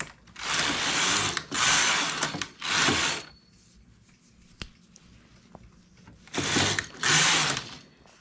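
Knitting machine carriage sliding across the bed while making a child's jacket, five loud rattling, whirring passes of about a second each, spaced by short quiet gaps, with no talking.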